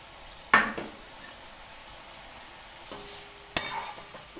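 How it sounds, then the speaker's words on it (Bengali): Small topsè fish are poured into simmering gravy in a pan, giving two brief splashing clatters against the metal over a faint, steady bubbling. "এবার ওই ঝোলটার মধ্যে আমি মাছগুলো ঢেলে দিলাম।"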